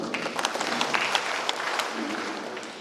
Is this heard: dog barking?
no